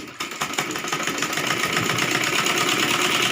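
A sewing machine stitching the sleeve seam of a Rajputi kanchali blouse runs steadily and fairly loud, its fast mechanical whir and regular needle chatter continuing without pause.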